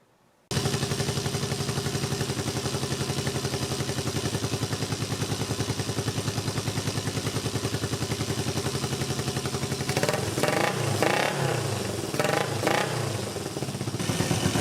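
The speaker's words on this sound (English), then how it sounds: "Here's what we're looking for: a nice smooth idle and a very responsive throttle." A Honda CB360 motorcycle engine idles steadily and loud after carburetor tuning, a dense, even rumble that holds for ten seconds before several quick throttle blips add clattering surges near the end.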